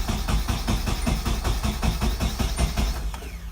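A turbocharged KA-engine Nissan 240SX cranks over during a push start, giving a steady, rhythmic chugging pulse close by that keeps repeating without clearly catching.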